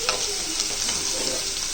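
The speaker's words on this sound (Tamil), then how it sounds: "இப்போ வந்து இது நல்லா வதங்கிடுச்சுப்பா." Quail gravy masala fries in a pan while being stirred, making a loud continuous sizzle broken by scraping stirring strokes, close up with no talk.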